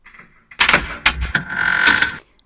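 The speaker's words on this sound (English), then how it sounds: "Suddenly, the door opened" A door opens in a Hansel and Gretel fairy-tale scene, heard as a loud, close sequence of clunks and knocks followed by a sustained creak lasting about a second.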